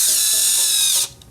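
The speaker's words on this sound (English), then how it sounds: "So drilling, screwing, and then hammering." GOXAWEE cordless power drill running, a loud, close, high-pitched motor whine held steadily for about a second with faint pulsing underneath, then cutting off abruptly into a quiet tail.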